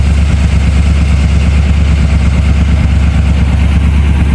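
A 1979 Chevy G20 van engine idles steadily with a holed muffler, giving a loud, continuous low rumble with rapid throbbing pulses and raspy exhaust noise throughout.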